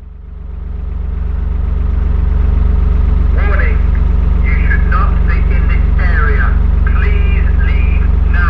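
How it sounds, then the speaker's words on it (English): From a passing canal boat on the Erewash Canal, a loud warbling warning siren or alarm rises over a heavy steady engine drone, sounding in repeated wavering bursts for several seconds. "Just listen to the warning siren I get as I go past in a moment."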